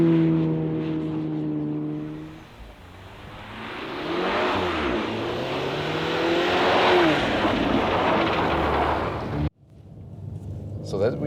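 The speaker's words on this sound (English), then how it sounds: "I'm here at the outside of the corner and accelerate out just a little bit, then I can slide out just a little bit with the ESC Sport" A VW T-Roc R accelerates out of a corner on ice in ESC Sport mode, its engine droning and rising while the car slides. Someone speaks over the engine throughout. The sound cuts off abruptly near the end.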